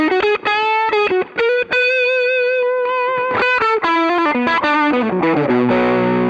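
Electric guitar played through a NUX Mighty Plug Pro amp modeler on a Dumble-style overdriven tone, a sustained melodic lead line with smooth, singing distortion and a final strummed chord, loud and alone.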